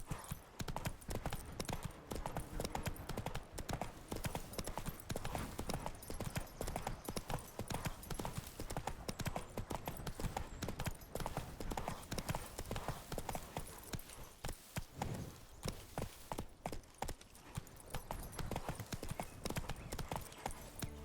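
A horse trots through a Witcher 3: Wild Hunt game world, its hooves clip-clopping in a steady, loud rhythm that runs unbroken for the whole stretch.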